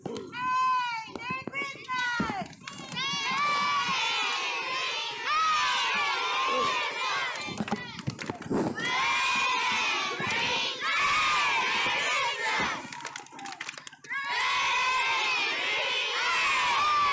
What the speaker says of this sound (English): let's take our headphones off and let them cheer for us